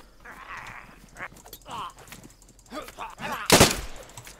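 A single loud gunshot-like burst cracks out near the end of DayZ gameplay, following scattered game noises and muffled voices talking in the background.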